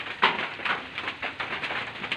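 Light drizzle falling outdoors during a rainy-day pest hunt, a soft steady patter of small drops with a few slightly sharper taps, fairly quiet and continuous with no talking.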